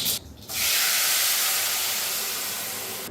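Tamarind water poured into hot oil tempered with mustard seeds and cumin, erupting into a loud, steady hissing sizzle after a brief lead-in, then slowly easing off.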